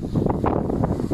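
Wind blusters across a microphone aboard a boat at sea on a chilly day, a loud continuous rumbling roar with gusty swells and no voices.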